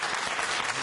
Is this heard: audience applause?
yes